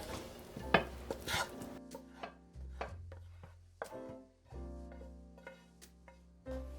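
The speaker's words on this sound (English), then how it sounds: "So I am going to take the ingredients from our skillet and put them in the casserole dish" Jambalaya ingredients are scraped and spooned from a skillet into a greased casserole dish, giving scattered utensil clinks and scrapes with soft thuds and pauses, fairly quiet and close, without talk.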